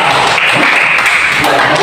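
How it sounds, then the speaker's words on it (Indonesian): Applause from students in a classroom, a loud, continuous wash of clapping hands lasting under two seconds. "Oke, berikan aplaus."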